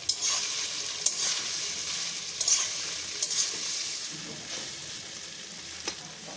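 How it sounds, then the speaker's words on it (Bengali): Soya chunks fry and sizzle in hot oil with turmeric and chili powder, a steady close crackle broken by occasional scrapes and stirs of a spoon against the pan. "সোয়াবিন থেকে জলটা ঝরিয়ে নেওয়ার পর আমি এর মধ্যে হলুদ আর লঙ্কার গুঁড়ো দিয়ে ভালো করে সোয়াবিনগুলো ভেজে নেব।"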